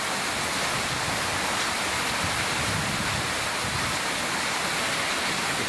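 Heavy rain and strong typhoon wind roar continuously and loudly, a dense unbroken hiss and rush with no pauses and no voices.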